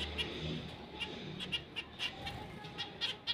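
Pet birds, a cockatiel and zebra finches, let out short, high chirps and peeps in quick, uneven bursts over faint low background noise, fairly close, with no clear talking.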